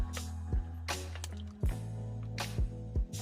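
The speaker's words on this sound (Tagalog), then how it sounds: "Tapos maglagay tayo ng marinated barbecue sauce." Marinated barbecue sauce poured over pork liempo, giving a few soft wet drips and squishes, close and quiet, with a low steady hum running underneath.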